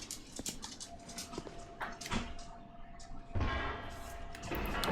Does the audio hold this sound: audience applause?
no